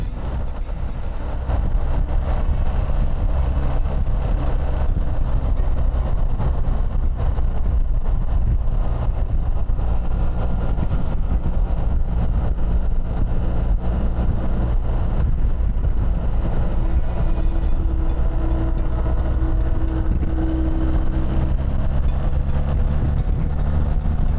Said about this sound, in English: I'm going to let you enjoy a bit of the engine sound over here.